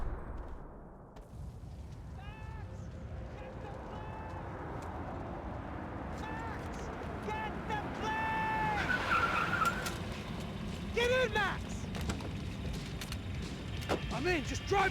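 Car engine roaring with tire skids and screeches during a Max Payne 3 escape, loud and continuous, with gunfire-like bangs and talk mixed in.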